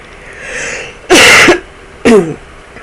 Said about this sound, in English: I hate when people cough on podcasts, and here I am